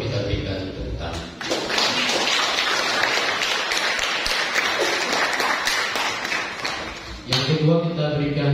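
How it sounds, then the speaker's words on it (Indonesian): A congregation at Sunday Mass applauds the choir, with a sustained round of clapping framed by a speaking voice just before and just after it. "Pertama untuk kelompok kor kita berikan tepuk tangan"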